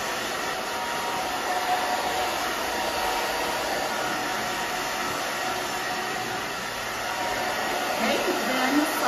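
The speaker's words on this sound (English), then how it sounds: "make sure that you're moving your blow dryer along with your fingers" A hair blow dryer runs steadily close up while styling short hair, with a constant airy whir, its tone barely changing.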